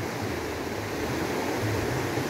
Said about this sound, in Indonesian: inilah sungai Aranawai yang semakin deras arusnya